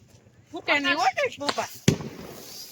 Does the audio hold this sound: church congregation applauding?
no